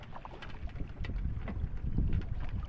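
A small rowboat moves across a baor, an oxbow lake in Jessore, with wind buffeting the microphone in a rough, gusty rumble and light water splashes throughout.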